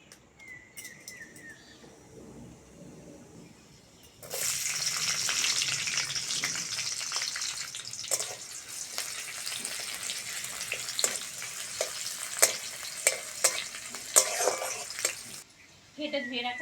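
Onion and five-spice tempering dropped into hot oil bursts into a loud, dense sizzle that holds steady for about eleven seconds, with crackles and spatter pops, after a quieter start with faint background sounds.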